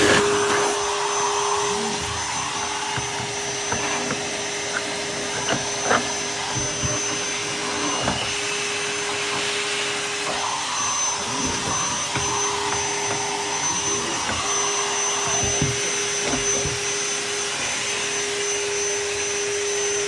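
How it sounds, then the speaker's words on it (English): A Dremel rotary tool with a diamond tip cutting tile in a garage, heard as a loud, steady high-pitched whine that runs unbroken, with faint scraping variations as the bit bites into the tile. "I'll just show you how I cut the tile with"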